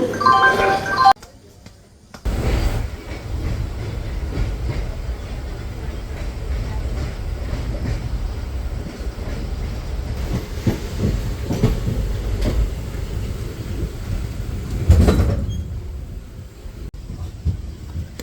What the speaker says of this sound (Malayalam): Train number 16305 Ernakulam Kannur Intercity Express will arrive shortly on Malabar Station.